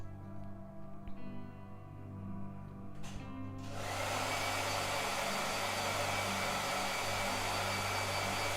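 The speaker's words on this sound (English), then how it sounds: "Again with the blow dryer." A blow dryer hums low at first, then switches to a loud, steady rushing whoosh partway through and keeps running strongly to the end, with no talking.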